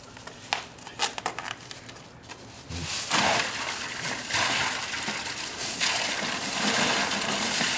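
Bucket of ice water dumped over someone outdoors on a hot day, a loud sustained gushing splash that starts abruptly and pours steadily for several seconds after a few faint clinks of ice.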